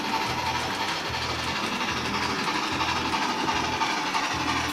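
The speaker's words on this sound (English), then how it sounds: "this might be the first time I've run this locomotive with the heavyweights" A model train locomotive hauls heavyweight Rivarossi passenger cars, making a steady close rumble with a regular rhythmic clicking of wheels over rail joints.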